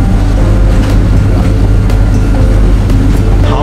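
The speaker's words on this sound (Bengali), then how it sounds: "আমি উঠেছি হাওড়া ব্যান্ডেল লোকালে" A Howrah–Bandel suburban local train runs along, its deep, continuous rumble steady and loud from inside the carriage, with faint rattles and clicks riding over the low drone.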